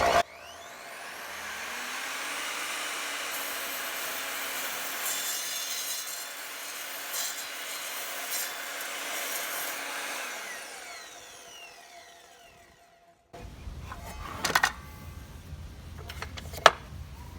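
Evolution R255SMS 10-inch multi-material sliding miter saw making a cut, a motor whine spinning up, a sustained grinding cut for about ten seconds, then winding down, followed by clunks and handling noises.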